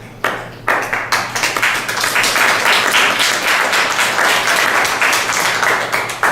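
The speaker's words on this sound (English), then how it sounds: "Applauding." An audience at an all-candidates meeting in Carnegie Hall applauds steadily after a brief lull, the dense clapping staying loud and even throughout.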